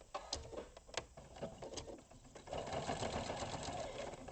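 A sewing machine stitches down a line of fabric, first in short mechanical bursts with clicks, then a continuous, steady whirring run, fairly quiet and close with no speech.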